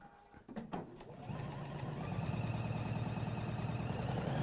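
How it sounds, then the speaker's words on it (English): A sewing machine runs steadily through three layers of fabric with a narrow foot guiding the edge, its fast, even stitching hum building after a few brief clicks and continuing without pause. "I'm just going to pop that under, foot down, and then I'm just going to"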